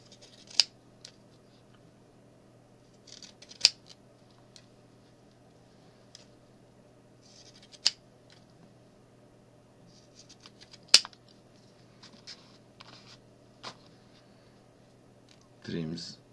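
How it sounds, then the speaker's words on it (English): Decorative fabric scissors cutting double-sided tape for a paper craft page, giving sharp, isolated snips spaced irregularly over a quiet background, with a few soft rustles between cuts. "use my decorative fabric scissors."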